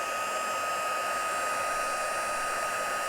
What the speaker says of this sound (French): Je vais reprendre mon pistolet chauffant, mais cette fois-ci en vitesse 2.